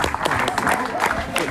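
Audience applause after a philosophy lecture by a professor, a dense burst of clapping filling the room at steady loudness, with some crowd noise mixed in.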